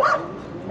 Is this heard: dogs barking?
yes